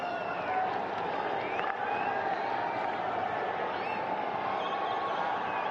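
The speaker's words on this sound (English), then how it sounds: "The India fans in the crowd congratulating themselves already as we into the final 50 seconds." India fans in the stands at an Olympic qualifier hockey match against Poland, a steady dense crowd roar and cheer that holds at an even level throughout, with stray whistles and faint voices inside the wash.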